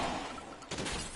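Shotgun blasts ring out during a police shootout in LA Noire, a sharp broadband burst near the middle over a dense, noisy background of gunfire and commotion.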